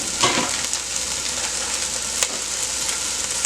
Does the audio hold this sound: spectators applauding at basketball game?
no